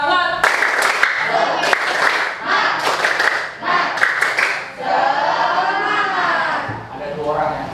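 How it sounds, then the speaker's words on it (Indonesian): A class of children performs the tepuk semangat spirit clap, loud rhythmic clapping mixed with chanting young voices, giving way to cheering and shouting as the pattern ends. "Tepuk semangat."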